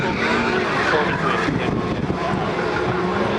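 A Formula SAE race car racing in an endurance event, its engine a loud, steady, close roar with broadband road and wind noise that holds for the whole stretch.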